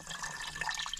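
Water running steadily into a container being filled short of the brim, a continuous close, bright splashing stream with no talk.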